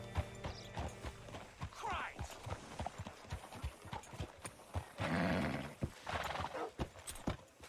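Horse hooves clip-clop in a steady rhythm in Red Dead Redemption 2, mixed with game sound effects, a brief whinny and occasional talk.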